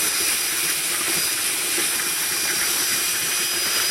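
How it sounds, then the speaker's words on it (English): A drill fitted with a cement mixer paddle churns compost into a wet slurry, giving a loud, steady, unbroken whirring hiss with no pauses or voices. "I'll give you an idea of the cement mixer on the end of the drill."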